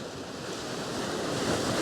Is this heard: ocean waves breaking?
yes